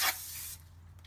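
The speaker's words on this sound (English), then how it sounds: "What you're going to do is you're going to spray and clean the cosmoline off the rotor." Brake cleaner sprayed onto a new front brake rotor of a 2012-2017 Toyota Camry to strip cosmoline, a short loud aerosol hiss that fades quickly over a low steady hum.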